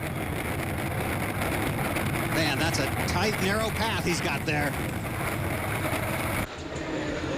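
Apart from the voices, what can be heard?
Unlimited Hydroplane racing boats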